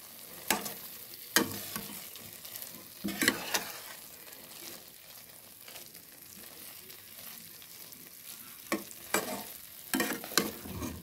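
Semai vermicelli with milk and sugar stirred in a pan over low heat for zarda semai, with bursts of spoon scraping at irregular intervals over a quiet, steady simmer.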